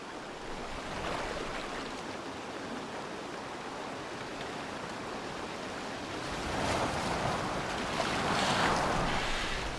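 A boat sailing across open water in Assassin's Creed Valhalla, with a continuous wash of waves and rushing water for about ten seconds that swells louder toward the end, and no speech.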